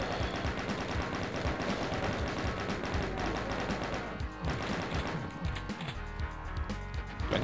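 A chaingun fires in the video game Doom, rapid sustained bursts of shots under a busy, loud game soundtrack, with the firing rattling on almost continuously before easing slightly.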